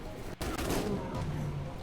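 Gunfire in the survival video game ARK: a sharp burst at the start, then a broad, dense rumble of shot noise that carries on to the end, loud and close, with no one speaking.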